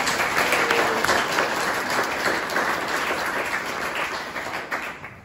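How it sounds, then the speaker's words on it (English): An audience at an Essex Heritage fall annual meeting applauds for a farm staff, dense sustained clapping from a crowd that holds steady and then begins to thin toward the end. "just give them a round of applause"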